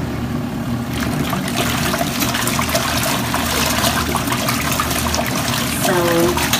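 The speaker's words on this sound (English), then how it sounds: "this is how it works to actually wash the clothes" A compact mini twin tub washing machine, standing in a bathtub, churns clothes in water with a steady sloshing, swirling wash and a low motor hum, loud and continuous, with a voice talking over it.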